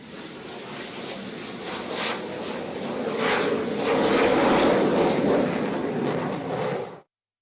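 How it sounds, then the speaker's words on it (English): HTT-40 trainer aircraft taking off at the Bengaluru air show, a loud, steady jet roar that swells in the middle and holds until an abrupt cutoff, with no voices. "Following the HTT-40 takeoff will be the takeoff of the intermediate jet"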